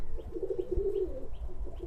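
Giribaz pigeons coo softly nearby at a pigeon farm in a low, rolling, repeated call, with faint background noise and no talking.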